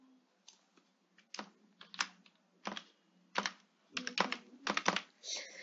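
A computer keyboard clicks close and fairly quietly as a web page is typed, with keystrokes falling in short irregular clusters separated by brief pauses.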